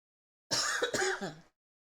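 A single throat-clearing cough, close and fairly loud, a rough burst lasting about a second with no talk around it.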